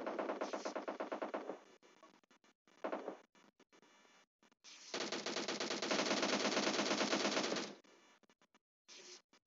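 Rapid automatic gunfire in the PUBG Mobile battle royale game, long sustained bursts broken by short gaps and a few isolated shots, loud and dense with no talk over it.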